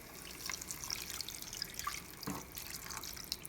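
Thin sauce for General Tso's chicken trickles and drips into a pan, a faint, close, uneven pour with small splashes.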